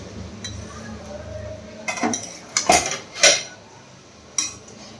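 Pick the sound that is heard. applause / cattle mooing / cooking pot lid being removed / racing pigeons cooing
cooking pot lid being removed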